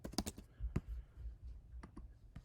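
Typing on a computer keyboard at a desk, a few quiet close key clicks in short bursts with gaps between them.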